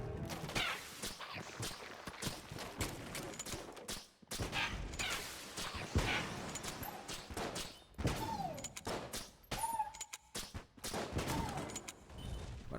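Rapid bursts of gunfire from a gun in a roguelike video game, dense repeated shots and impacts filling the whole stretch with brief pauses, loud and close, no talking.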